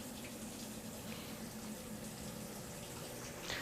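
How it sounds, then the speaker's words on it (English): Steady rushing of water filling a Frigidaire top-load washing machine, a continuous even hiss with no voices, fairly quiet and unchanging throughout. "Now we have the water entering into the unit."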